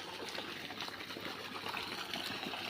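Irrigation water flows and splashes steadily across a farm field, a continuous close hiss and gurgle with no pauses and no voices.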